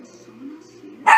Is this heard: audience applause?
no